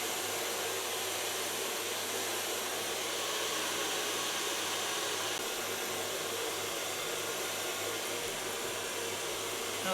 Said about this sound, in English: I'm gonna blow dry the hairs with a medium large brush